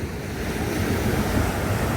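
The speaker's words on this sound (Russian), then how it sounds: "И вот такие волны." Ocean surf at Puerto de la Cruz, Tenerife, washes steadily under stormy wind, a continuous broadband roar with gusty buffeting and no clear pauses between the breaking waves.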